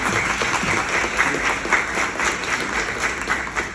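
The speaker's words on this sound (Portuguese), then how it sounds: "Uma salva de palmas." An audience at an evening lecture claps to welcome a speaker, a full, steady wash of applause from many hands lasting throughout.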